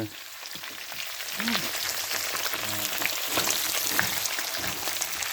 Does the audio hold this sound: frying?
yes